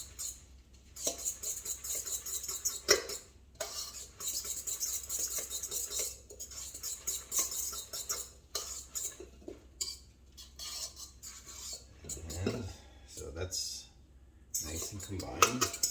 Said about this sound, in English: So we're just going to stir this up and make sure that egg is all combined in there first.